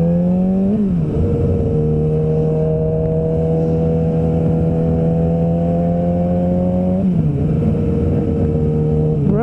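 A Suzuki GSX-R 600 track bike engine hums steadily at cruising revs, with brief throttle changes as it shifts near the start and again toward the end, loud and close throughout.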